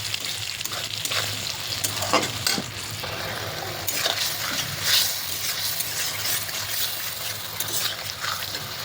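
Spice masala for a hilsa fish curry fries in a pan with a steady sizzle while a utensil stirs and scrapes it in uneven bursts, close and moderately loud.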